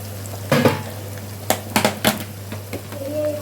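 Three green chilies are stirred in a pan with browned onions for a basmati chicken biryani. A spatula scrapes and knocks against the metal a handful of times over a low, faint sizzle and a steady hum.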